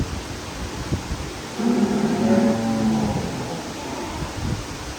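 Cattle at the Dutch Dairy farm in Bangladesh give one long, deep, loud moo that swells and fades over a couple of seconds, set against steady barn background noise.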